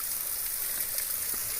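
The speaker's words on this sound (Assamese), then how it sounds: "ইফালে এটা সৰু নিজৰা, এটা পানী পৰি আছে" Water from a small stream trickles and falls outdoors, giving a faint, continuous rushing hiss.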